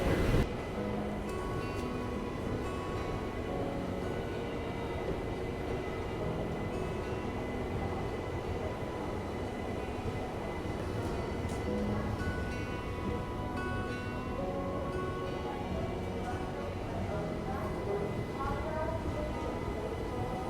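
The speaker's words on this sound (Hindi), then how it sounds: "अमृतसर विशाखापट्टनम एक्सप्रेस वहाँ पे निकल रही है" The Amritsar–Visakhapatnam Express pulling out of a station, a steady, continuous rumble of rolling railcars and wheels heard from nearby for the whole stretch, with faint ticks scattered through it.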